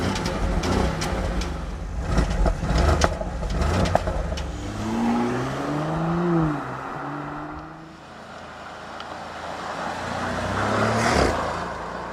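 Two Porsche Cayenne engines, a 3-liter V6 SUV and a 4-liter V8 coupe, rev in turn, idling then rising and falling in pitch with a throaty rumble, close and fairly loud.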